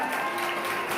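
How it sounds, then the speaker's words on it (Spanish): A church congregation applauds during a Spanish-language worship service, a steady wash of clapping held at moderate, fairly distant level for the whole moment. "Den un aplauso al Señor"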